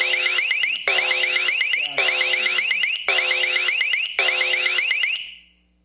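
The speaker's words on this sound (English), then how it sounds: "Click on this, sound the alarm." A Toucan outdoor security camera sounds its built-in alarm siren: loud, shrill electronic warbling bursts in a fast repeating pattern. Five blasts come back to back with brief gaps, then the last one trails off into silence.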